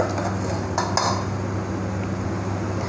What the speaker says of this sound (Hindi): अब आपको ऐसे ही ये खीर चलाते रहना है और लगातार चलाते रहना है।